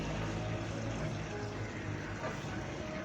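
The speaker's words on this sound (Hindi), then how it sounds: "थोड़ा सा पानी डालेंगे" Water is poured into frying masala for urad daal (dhaba-style mash daal fry), giving a steady hissing, bubbling sizzle that fills the short stretch without a break.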